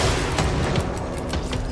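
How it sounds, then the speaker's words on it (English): Enemy rockets firing and bursting in the video game Control, a rapid barrage of dull booms and blasts packed close together, loud and continuous with no talking. "Who's shooting rockets?"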